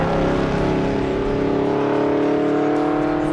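A 2007 Aston Martin V8 Vantage engine roars loudly and steadily, a deep sustained V8 note held close for a few seconds with no talk over it.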